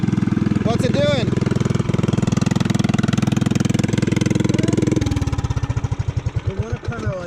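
A Predator 301 engine on a Coleman BT200X minibike fitted with a Mikuni 28mm carb drones loudly and steadily, then shifts after about five seconds to slower, uneven firing pulses as it winds down.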